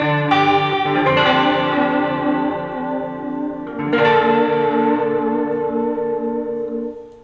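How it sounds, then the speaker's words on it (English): A Gretsch G5655T Center Block Junior electric guitar played on its neck pickup through a Roland Jazz Chorus amp with reverb and slow, deep vibrato: two strummed chords ring out and sustain, shimmering and wavering, with no talking. "And I'm playing the neck pickup of my Gretsch"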